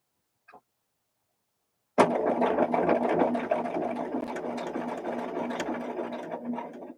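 After a tiny click and a pause, a sewing machine starts abruptly and runs a continuous fast stitch along a quilt seam edge, loud and close with a rapid mechanical chatter.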